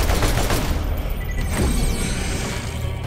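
Rapid gunfire in the video game Borderlands, a dense fusillade of overlapping automatic shots and booms, loud and close, continuing without pause.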